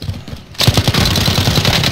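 Call of Duty Modern Warfare gunfire crackles in a loud, rapid automatic burst after a short quiet moment, with shots continuing close and unbroken to the end.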